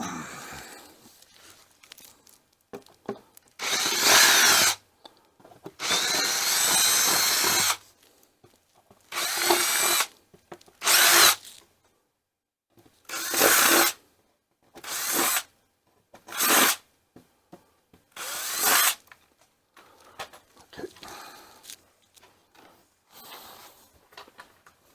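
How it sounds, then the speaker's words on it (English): A power drill runs in repeated bursts of a few seconds each, separated by short pauses, while a control panel is being assembled. It is close and loud, with no talk. "so let's get the drill."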